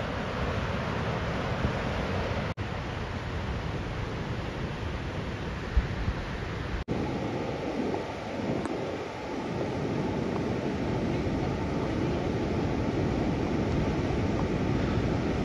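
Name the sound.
rushing water on Devkund trek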